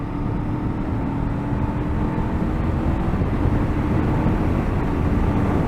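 A 2024 Honda SCL500 motorcycle pulls hard after a downshift, its engine droning loud and steady under heavy wind rush on an open road.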